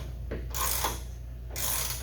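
Nut being tightened onto a Cub Cadet RZT L 54-inch mower deck wheel over a large 3/8 washer, two short bursts of ratcheting wrench clicks, close and moderately loud, with no talking.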